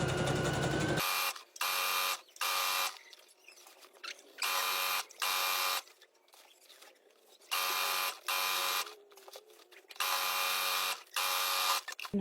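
A sewing machine stitches pajama shorts in bursts of fast, steady whirring, stopping and starting several times with quiet pauses between runs, close up and alone.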